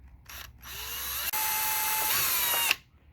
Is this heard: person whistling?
no